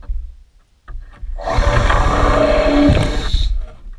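A power drill drives screws down into pallet-wood cross boards on a workbench, a close, loud whirring burst of about two seconds after a short pause.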